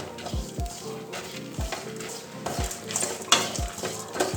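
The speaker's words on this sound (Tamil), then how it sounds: "2 வத்தல் மிளகாயும் ஆட் பண்ணிக்கிறேன்." Dried red chillies roast in a pan while being stirred, giving repeated sharp scraping knocks of a spoon against metal in an uneven rhythm over a soft continuous sizzle, close and moderately loud.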